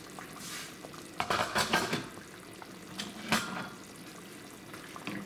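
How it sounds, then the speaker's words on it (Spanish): Covered pot of vegetable, pasta and ground beef soup on medium heat, with clinks and clatter of metal lid and cookware over a soft watery simmer, a few louder knocks in the middle, no talking. "Tapamos y dejamos ahí cocinar a fuego medio."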